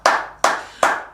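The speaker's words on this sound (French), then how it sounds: "Il faut applaudir" Three sharp, evenly spaced hand claps ring out close and loud, each with a short reverberant tail, heard alone without talk.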